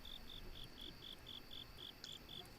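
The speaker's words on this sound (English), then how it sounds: "Thank you for the crickets." Crickets chirp in a steady rhythm, about ten evenly spaced high pulses over a faint background hiss, with no other sound.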